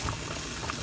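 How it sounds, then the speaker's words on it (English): A pot of rice with onions bubbles on the stove, a short burst of soft popping and gurgling at low volume. "Stir it up with the onions and stuff in it and let it boil down to a cook."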